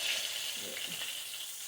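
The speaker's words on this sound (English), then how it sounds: "I'm going to turn the fire down some. It's frying up too much." Steady hissing sizzle of whiting fish frying in hot oil, constant and close, with faint crackles throughout.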